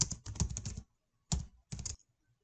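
Quick runs of keystrokes on a computer keyboard come in three short bursts of dense clicking separated by brief silences, close and fairly soft.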